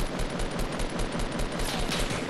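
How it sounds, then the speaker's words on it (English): Sniper gunfire from an online squads match video game, a dense, loud barrage of rapid shots layered over constant in-game noise, with no talking. "he shot at me, he shot at me"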